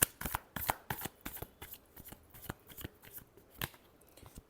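Tarot cards shuffled by hand in a quick riffling burst followed by a series of short, crisp flicks and slaps, close and fairly loud, with no voices.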